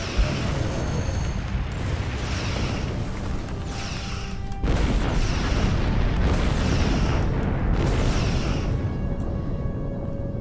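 Repeated booming blasts from aft torpedoes and Gorn mines in a Star Trek Online space battle, a series of heavy rumbling explosions over continuous low roar, with one sharper surge midway.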